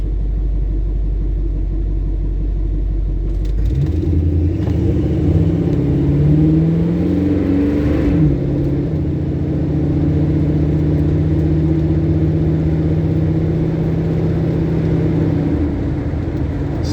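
A Ford Mustang Mach 1 rumbles and accelerates on a city drive, its engine note rising through gears with a deep steady drone and a clear shift partway through, loud and close throughout.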